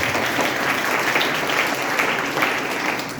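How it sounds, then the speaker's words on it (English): A school assembly audience applauds the teachers, producing a steady, moderately quiet patter of many hands clapping that holds evenly from start to finish. "Can they deserve a big round of applause?"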